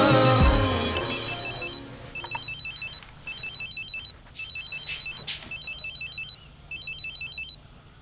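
A mobile phone rings in short repeated electronic bursts, a patterned ringtone pulsing about once a second, fairly quiet after a louder rustling start, with no talk.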